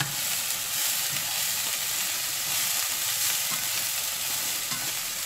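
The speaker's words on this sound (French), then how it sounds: "Maintenant, émincez l'oignon et le mettre dans la poêle chaude." Sliced onions sizzle steadily in a hot frying pan, a constant close crackling hiss with occasional soft stirring scrapes, no voices.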